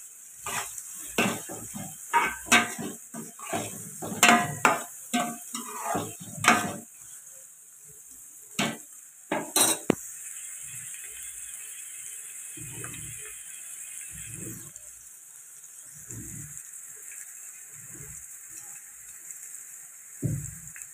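Onions frying in a pan for chicken curry, with a spoon stirring and scraping steadily over a bright continuous sizzle; clinks come dense in the first half, then the sizzle carries on alone with only occasional soft stirs.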